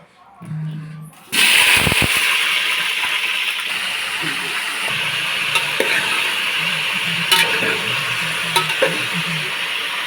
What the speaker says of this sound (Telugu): వంకాయ నూనెలో వేపుకుందాము.